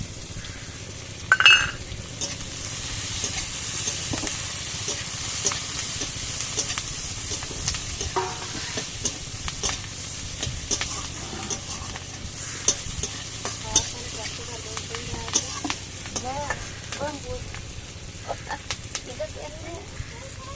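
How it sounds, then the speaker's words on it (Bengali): Onions with slit green chillies sizzle and crackle in a hot pan with oil, a soft continuous fry with occasional stirring scrapes and clinks, fairly quiet throughout. "পেঁয়াজটা লাল লাল করে ভেজে নিয়েছি"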